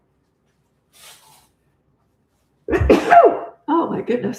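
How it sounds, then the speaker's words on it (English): A person sneezes sharply and loudly at close range after a brief soft intake, then follows with a short spoken exclamation. "That's a real sneeze."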